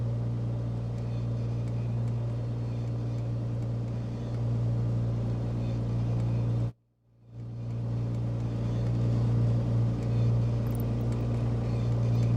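In Microsoft Flight Simulator 2024, an aircraft engine drones as a steady, loud background hum with a strong low tone, cutting out briefly near the middle before resuming, no speech over it.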